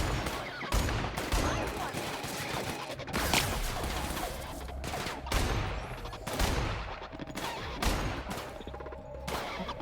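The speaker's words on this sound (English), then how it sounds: "I need to shoot you in the face" Rapid bursts of gunfire from the video game The Outer Worlds, repeated loud shots and volleys spread across the clip with some crashing impacts in between.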